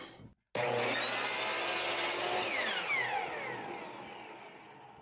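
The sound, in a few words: saw blade cutting tip off a wood piece in a jig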